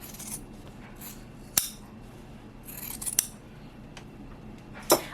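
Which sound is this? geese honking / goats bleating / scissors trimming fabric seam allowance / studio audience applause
scissors trimming fabric seam allowance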